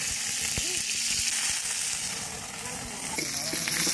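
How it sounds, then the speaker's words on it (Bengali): Garlic fries in hot oil with a steady close sizzle and crackle, while a voice talks faintly in the background. "প্রথমে রসুনটা ভেজে দিচ্ছি"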